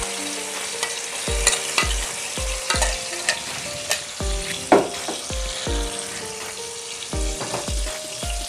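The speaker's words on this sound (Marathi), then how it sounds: "त्याच्यामध्ये ना आपण ना मिक्सरमध्ये वाटून घेतलेले ना मसाले टाकून घेऊ." Ground spice masala frying in oil with ginger-garlic paste for a spicy Konkani kingfish curry, a steady sizzle broken by repeated scraping stirs of a spoon against the pan, close and fairly loud.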